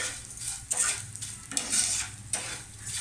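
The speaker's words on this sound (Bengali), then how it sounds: "আবারও একটু ভালো করে ভেজে নিচ্ছি ড্রাই ফ্রুটসের সঙ্গে" Cashews, raisins and peanuts being fried and stirred in a pan, with soft sizzling and a utensil scraping in repeated strokes, close and steady with no one talking.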